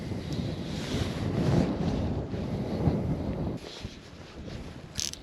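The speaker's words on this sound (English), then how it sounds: "There, our wind's dropped off a little bit again now." Gusty wind buffeting the microphone outdoors while winter fly fishing by the water, a loud rumbling roar that eases off partway through.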